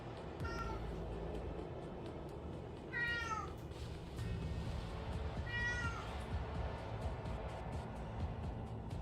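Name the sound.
cat meowing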